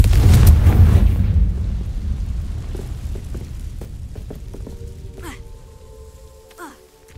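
A booming Confringo blasting-spell explosion from Hogwarts Legacy bursts loudly at the start, then its rumble decays slowly over several seconds. Faint game cues and a brief swishing effect follow near the end.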